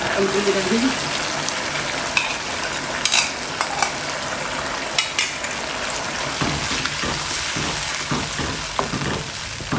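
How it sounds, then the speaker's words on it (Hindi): Yogurt is stirred into chicken in a hot frying pan, giving a continuous sizzle with scraping and wet mixing sounds and occasional clicks, while someone talks softly at times. "अच्छी तरह मिक्स करेंगे कि फुटकलियाँ ना बीच में बने"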